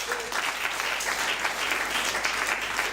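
A church congregation applauds, a steady, dense clapping that fills the room for several seconds at an even level.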